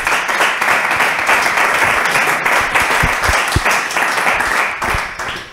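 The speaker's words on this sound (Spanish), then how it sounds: "Un aplauso gracias a..." Sustained audience applause fills a lecture hall after a talk on money, banking and economic cycles, a dense steady wash of many hands clapping with a few sharper claps standing out near the end.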